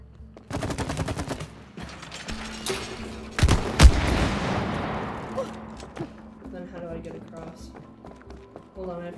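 Rapid gunfire bursts from shooting at yellow targets in the video game It Takes Two, loud and repeated in quick volleys mixed with game effects, while people talk over the action.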